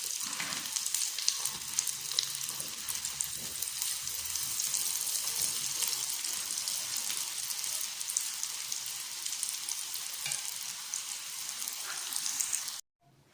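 Chicken and egg frying in a pan for a tajine, a steady bright hiss and crackle that runs unbroken for several seconds before cutting off abruptly at the end.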